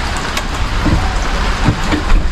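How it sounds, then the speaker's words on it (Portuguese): Heavy rain pours down outdoors in Japan as a steady, loud, dense hiss, with occasional soft spatters on nearby surfaces and no voices. "a chuva tá bem forte"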